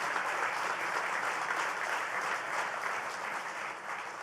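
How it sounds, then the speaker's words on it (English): An audience at a governor's economic development announcement in Buffalo gives a big round of applause: dense, steady clapping from a large crowd that holds throughout and fades slightly at the end. "Let's give Howard Zemsky a big round of applause."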